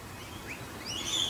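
Faint high chirps from a bird or two, brief and thin over a steady outdoor hiss.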